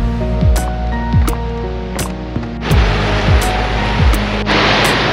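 Small mountain streams flowing on a hike across the Stara Planina range in Bulgaria, a steady broadband rush of water heard close and loud throughout, with footsteps and rustling over it and no talk.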